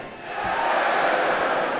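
A large arena crowd at the IEM Sydney 2023 Counter-Strike semi-final swells into a loud, sustained roar of cheering and shouting, rising after a brief quieter moment and holding steady.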